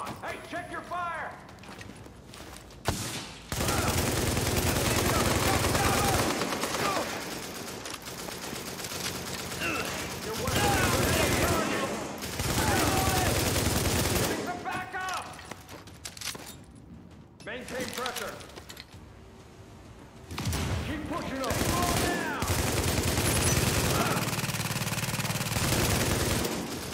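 Gunfire from the video game The Division: bursts of rapid automatic fire and scattered shots come in loud stretches separated by brief lulls, with shouted voices over the combat.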